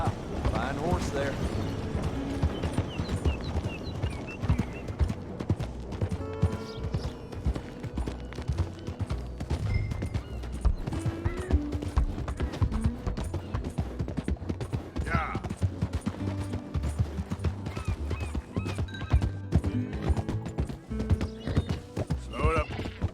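Horse hooves clip-clop steadily in Red Dead Redemption 2 as a rider travels toward Willard's Rest, with continuous rhythmic hoofbeats, occasional whinnies and some speech over the game sounds.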